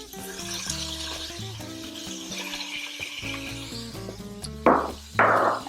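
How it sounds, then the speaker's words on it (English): Gulf shrimp dropped into a hot skillet, two loud bursts of sizzling near the end over a steady bed of background music, close to the pan with no talking. "So now I have these beautiful Gulf shrimp, and I'm just going to go ahead and place them into my skillet."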